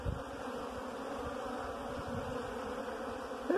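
Italian honey bees drone steadily at an opened hive, a dense, continuous buzzing close by that stays even throughout with no voices over it.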